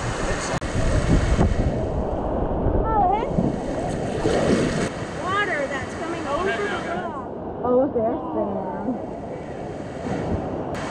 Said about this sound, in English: when the water goes over, it drops down to the bottom of the river